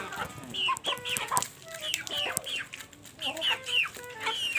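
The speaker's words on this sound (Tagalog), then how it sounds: "magpapakain lang tayo ng ating mga manok" Farm chickens clucking busily in a steady stream of short calls at close range while being fed by hand, with a few louder squawks rising over the flock.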